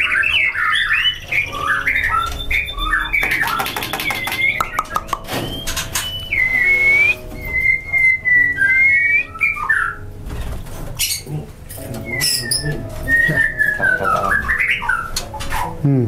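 White-rumped shama (murai batu) at a breeding farm, loud close whistles, squawks and varied melodic phrases in quick bursts, mixed with occasional knocks and cage rattles.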